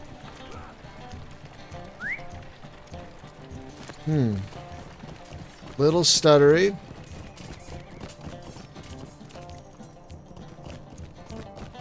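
A horse in the video game Lord of the Rings Online gallops with quick hoofbeats, with two loud whinnies standing out along the way, while a person talks over the game sounds.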